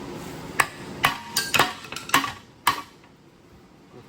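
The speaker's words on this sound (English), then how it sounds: "You get another chisel or another hammer." A hammer strikes a chisel against a welded three-piece wheel, about seven sharp metallic clanks at uneven intervals, close and ringing briefly before fading to a quiet room.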